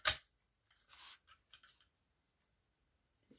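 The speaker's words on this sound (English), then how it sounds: "just trim it down a wee bit more" A paper trimmer slicing a small piece of card for stamping crafts, a sharp close snip followed by a few faint soft rubbing sounds in an otherwise quiet room.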